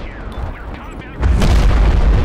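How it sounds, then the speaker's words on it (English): An airstrike explosion in the modern combat strategy game Broken Arrow hits after a stretch of battlefield noise, a sudden loud low boom that rolls on heavily to the end, with a voice speaking before it. "Go for an airstrike right there"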